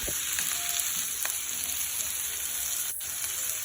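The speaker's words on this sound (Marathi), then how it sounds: "आता आपण कांदा छान परतून घेऊया" Onion sautés in a pan with a dense, continuous sizzle and a few soft scrapes of stirring, heard close and steady.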